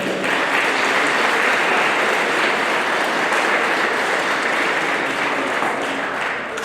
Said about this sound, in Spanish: Fuerte, fuerte el aplauso.